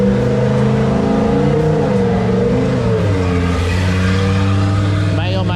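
Roll racing car engine revving hard at a Sydney event, a loud, sustained, snarling drone with shifting pitch as it winds up, carrying on steadily without a break.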